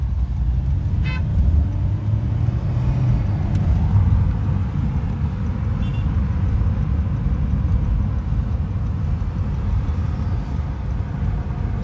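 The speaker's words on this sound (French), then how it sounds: "voilà, le véhicule de Pravin Jagnnath" A black car moves in street traffic with a steady, loud roar of engine and road noise and brief horn toots early on, with no talk.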